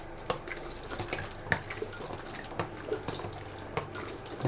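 A film developing tank is agitated by hand while processing Kentmere Pan 400 film, giving soft sloshing liquid and small knocks and drips, steady and close for several seconds, with no talking.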